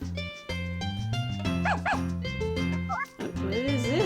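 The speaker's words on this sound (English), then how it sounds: "These dogs must be strays." Stray dogs barking and yipping in the Harvest Moon: A Wonderful Life farming game, several short synthesized barks and whimpers over looping background music.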